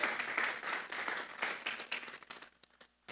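Church congregation clapping in praise to God, a brief burst of hand claps that thins into scattered final claps.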